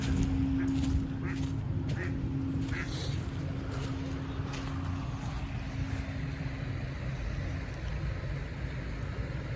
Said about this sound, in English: videos of these ducks over here.